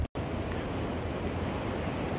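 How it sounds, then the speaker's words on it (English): Steady broadband rush of the Chucky River flowing along the Appalachian Trail in Tennessee, a continuous close wash of water with a brief dropout at the start and no talking. "This is the Chucky River."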